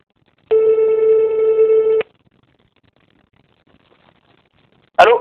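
A single telephone ring tone sounds steadily for about a second and a half, then silence before a voice answers.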